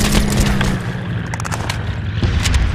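Sniper rifle fire in the online shooter MAG, with loud booming shots and rumbling explosions layered over dense continuous battle noise.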